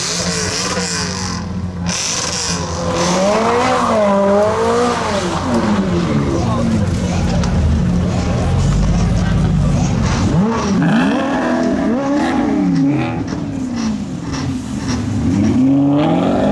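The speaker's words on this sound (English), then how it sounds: "Cars are starting to head out from this evening's meet." Several cars leaving an evening car meet rev and pull away one after another, loud and close, with voices talking over the rumble throughout.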